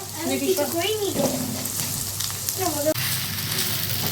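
An egg fries in a pan for noodles, giving a steady crackling sizzle while a voice talks over it.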